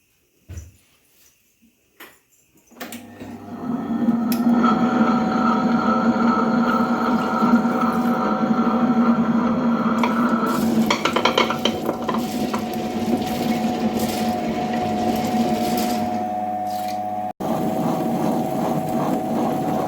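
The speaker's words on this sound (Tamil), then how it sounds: "இப்போ நம்ம அதை கிரைண்டரில் போட்டு நல்லா ஆட்டப்போம் நைஸாக" A wet grinder starts up and churns soaked sorghum, rice, urad dal and fenugreek into batter, giving a steady close whirring rumble with a grinding scrape that runs continuously after a few brief knocks at the start.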